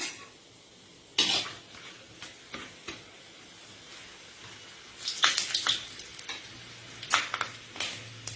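Curry leaves and star anise hit hot oil with a sharp burst of sizzling, followed by intermittent crackles and spits that flare up again in later bursts, fairly close and alone.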